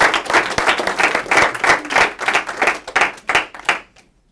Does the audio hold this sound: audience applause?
yes